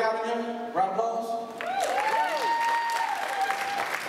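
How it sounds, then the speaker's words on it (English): An audience at a comedy festival applauds steadily throughout, with a voice speaking and exclaiming over the clapping. "Round of applause, you go work out again? Round of applause."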